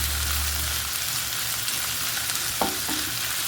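Whole coriander seeds and dried red chillies roasting in a pan over medium gas, a steady loud sizzle with a brief stirring scrape near the end.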